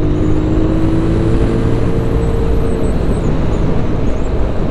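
A QJ Motor SRV550 motorcycle engine pulls hard under acceleration, a loud, close, continuous rumble with wind roar and a steady rising drone heard from the rider's position.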